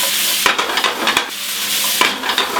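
Onions fry on a burger griddle, a continuous close sizzle broken by a few sharp scrapes and taps as a spatula stirs and turns them.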